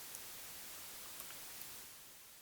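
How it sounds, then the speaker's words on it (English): A steady wash of white noise from a signal generator plugin in Pro Tools, a flat, even hiss like a television with no antenna signal, heard alone at a constant level that dips slightly at the end. "we're going to click on the white noise"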